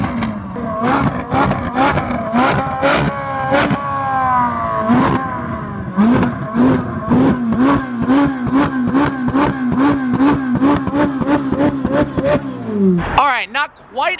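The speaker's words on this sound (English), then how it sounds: "the fact that my car is stock and shoots flames like that" A stock car's engine is blipped in a rapid series of sharp, loud revs close by, each burst followed by crackling exhaust pops as flames shoot out, ending in a brief rough flutter.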